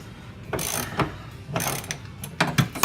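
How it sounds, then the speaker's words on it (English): A hand ratchet works a bolt loose during fuel pump replacement on a Cobra, sounding as several bursts of rapid metallic clicking separated by short pauses, close and fairly loud with no talking. "watching me take this bolt out, it's like watching paint dry"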